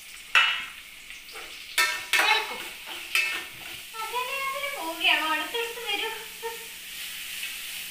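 Chopped onion, ginger and garlic hit a hot pan for a home-made masala curry, with a few sharp clanks of stirring followed by a steady sizzling hiss; voices talk over the frying in the second half.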